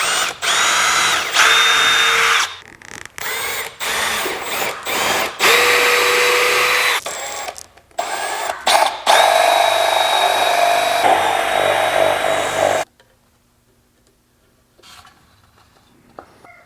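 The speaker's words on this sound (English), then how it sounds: "we're going to drill a hole in here, and we're going to sit it on top and drill a hole through" A power drill bores a hole through a homemade bird feeder, whining loudly and steadily with brief stops and restarts, then cutting out to near silence for the last few seconds.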